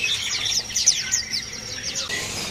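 Pleci white-eye birds chirping in cages at a bird market, a rapid flurry of thin, high-pitched tweets and trills overlapping one another, moderately faint, with no talking.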